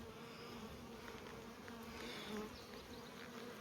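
Close, steady buzzing of honey bees, a continuous hum with individual bees droning nearby, no voices.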